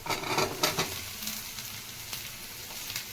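Ivy gourd pieces drop into a pan of hot oil and fried onions, setting off a loud, close sizzle with a few scraping stirs early on, then a steady crackling hiss. No one speaks.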